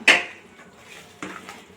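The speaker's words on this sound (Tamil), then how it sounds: "நல்லா இது மாதிரி கிண்டி விடுங்க நல்லா மிக்ஸ் ஆகிற மாதிரி" Coconut burfi mixture is stirred in a pan, with a sharp metal clink of the spoon against the pan followed by softer scraping knocks, close and alone.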